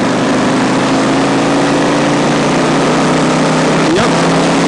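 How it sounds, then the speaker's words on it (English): A 2007 Yamaha V-Star 1100 Classic cruiser pulls in top gear on the highway, a steady loud engine drone with a low hum under heavy wind rush. "It pulls very nicely at the top gear roll on, so we don't have to worry about downshifting to pass somebody."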